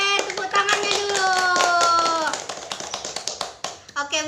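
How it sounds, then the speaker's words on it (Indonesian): A classroom greeting with clapping in an Indonesian social-studies lesson: sharp, irregular claps at the end, with people talking and voices over most of it. "tepuk tangannya dulu."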